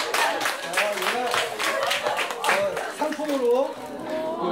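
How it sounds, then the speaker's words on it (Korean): Scattered clapping from a small audience of parents at a school parenting workshop, a brief patter of hands rising and fading, with voices talking over it. "박수."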